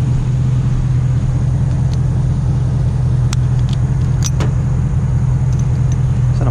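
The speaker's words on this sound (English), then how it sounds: "Let this car pass." A car goes by on a road in a steady, loud, close engine drone with a strong low hum, plus a few sharp clanks from nearby.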